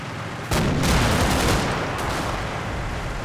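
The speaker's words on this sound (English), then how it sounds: "Area fire is used on likely enemy positions." Dense area-fire gunfire from the Combat Mission Red Thunder war game, a loud continuous barrage of overlapping shots and booms that kicks in sharply and rolls on without pause.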